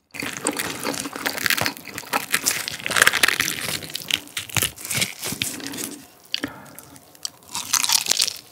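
Thin-battered Korean market-style fried chicken is bitten and chewed close up, with loud repeated crisp crunches and crackles in an irregular rhythm and no talking.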